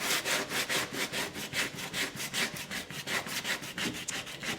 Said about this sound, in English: you can really like lean in on your sanding block